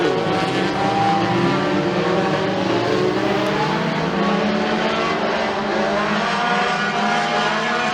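Race cars roar steadily around McKean County Raceway as a heat gets underway, a loud continuous wall of engine noise with overlapping pitches rising and falling as several cars accelerate together.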